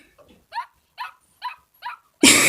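Puppies yipping and barking, four short high-pitched yaps in an even rhythm at close range, followed by a sudden loud burst of noise.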